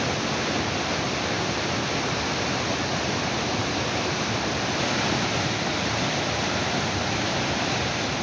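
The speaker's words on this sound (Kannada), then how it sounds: "ಸಕಲೇಶಪುರ ತಾಲೂಕಿನಲ್ಲಿ ಸುರಿಯುತ್ತಿರುವ ಮಳೆಗೆ ಮೂಕನಮನೆ ಜಲಪಾತ ಭೋರ್ಗರೆದು ಹರಿಯುತ್ತಿದೆ" Mookanamane waterfall in Sakleshpur taluk roars after heavy rain, a loud, unbroken broadband rush of falling water that holds steady from start to end.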